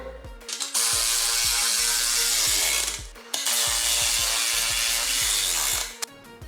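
A power tool drives nuts and bolts while home gym equipment is assembled in a garage, with two long, loud whirring bursts broken by short pauses and ratcheting clicks at the start and end.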